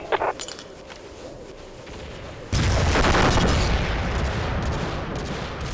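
Explosion and gunfire in the Global Operations video game: a quieter stretch of distant shots gives way to a sudden loud blast whose roar and rumble hang on for several seconds.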